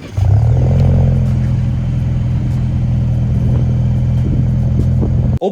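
A 2022 Ford Roush Ranger pickup engine catches and settles into a deep, rumbling idle, the exhaust throbbing low and loud for several seconds before cutting off, on a windy day.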